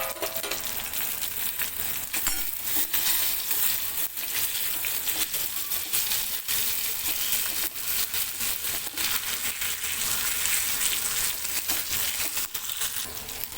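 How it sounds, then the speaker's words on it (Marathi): Green chillies fry and sizzle in a pan over slow gas, a steady crackling hiss broken by scattered clicks and scrapes as they are flipped, with no talking. "आपण आता मिरचीला पलटी करून घेणार आहोत."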